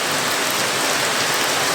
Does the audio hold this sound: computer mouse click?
no